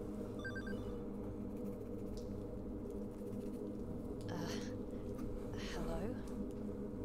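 An old telephone in the horror game Hollowbody gives a brief electronic ring near the start, heard over a loud, constant low droning ambience, followed by soft rustling sounds.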